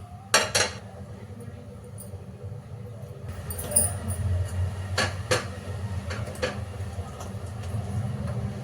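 A metal pan is set down on a home stovetop while vermicelli milk kheer is being made, giving a few sharp, close clinks and knocks over a low, steady kitchen hum.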